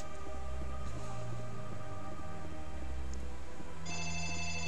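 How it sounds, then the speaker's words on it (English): A telephone rings steadily in a room, a continuous tonal ring heard alone over a game's constant background sound, with a brief change in tone near the end. "Oh, the phone."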